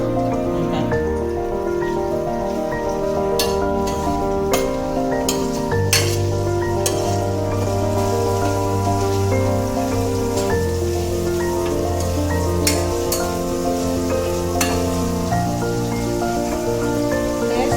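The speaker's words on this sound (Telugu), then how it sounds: "కొంచెం ఆయిల్ వేడవ్వాలి. ఏదైతే ఉల్లిపాయలు, పచ్చిమిరపకాయలు" Onions and green chillies frying in hot oil give a loud, continuous sizzle with brisk stirring scrapes, set against steady tonal background music.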